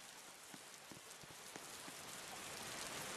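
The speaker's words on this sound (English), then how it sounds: "Oh no, it's raining even more." Rain falls steadily in the Roblox video game, a dense, even hiss of drops hitting surfaces that swells slightly louder toward the end, with scattered sharper patters and no talking.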